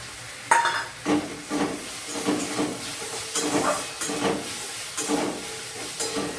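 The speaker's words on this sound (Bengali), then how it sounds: "এবার নারকেল কুচানোগুলো দিয়ে দেবো দিয়ে একটু ভেজে নেবো" Grated coconut fries in a pan with chana dal for a Bengali meal of luchi and dal. Soft sizzling hiss runs under repeated spatula strokes, with scraping stirs arriving about once a second, close and moderately loud.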